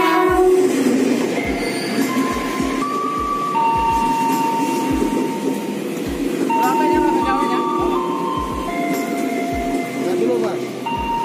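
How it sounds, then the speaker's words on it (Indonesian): A commuter train rolls into Nambo Station with rhythmic wheel clacks over rail joints, squealing brakes and metallic tones, loud and close, with voices beneath. "Keretanya sampai."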